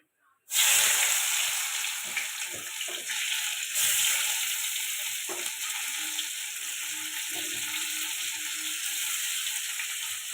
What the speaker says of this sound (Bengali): কড়াতে দিয়ে দেবো পেঁয়াজ